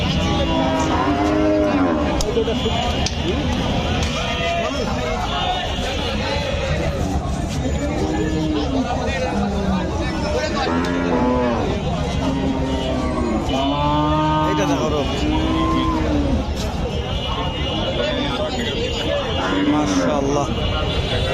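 A large Friesian dairy cow at a cattle market moos repeatedly, the calls rising and falling close by while people talk continuously around it.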